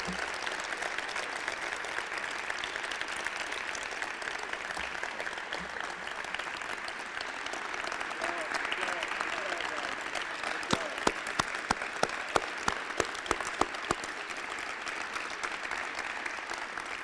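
A large crowd at an Elon Athletics Hall of Fame ceremony applauds the six inductees in a long, even round, with a few louder, closer claps punctuating it toward the end.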